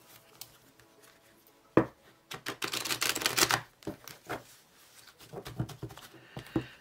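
Tarot cards being shuffled by hand, a run of quick papery riffles and soft card clatter in a quiet room, with a few separate taps and flicks before and after.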